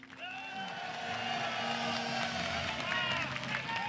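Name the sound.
applause for team A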